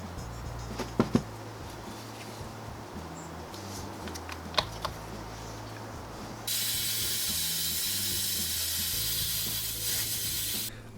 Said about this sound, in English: Lots of brake clean, compressed air to get all the sand off.